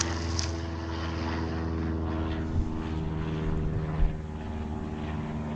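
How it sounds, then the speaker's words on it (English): A propeller airplane drones overhead near a lake during bass fishing, a steady low engine hum holding constant throughout with a couple of faint bumps nearby. "Hello, airplane."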